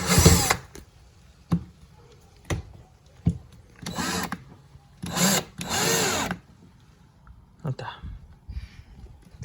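A power drill drives screws into a DIY casting deck on a Pelican Bass Raider 10E boat, in several short whirring bursts and a few longer runs, close and loud, with voices talking between them.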